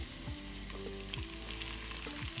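Chunks of stew meat sear in a hot pan with a steady, dense sizzle and crackle, close and continuous, with occasional low clinks and scrapes from stirring and no voices.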